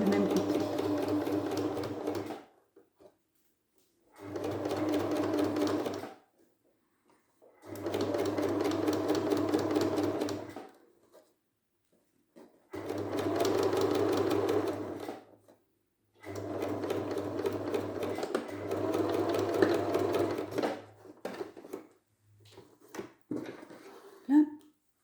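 Domestic sewing machine stitching layers of fabric for an anti-fog face mask, running in several bursts of a few seconds each with short silent pauses between, fairly close and moderately loud, with a few small handling noises at the end.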